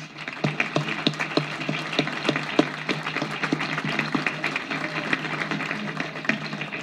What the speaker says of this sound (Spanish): Y un aplauso al ingeniero Carlos